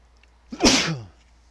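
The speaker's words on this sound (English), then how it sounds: "Sorry about that sneeze there, folks." A single sharp, close sneeze bursts out loudly and briefly against an otherwise quiet background.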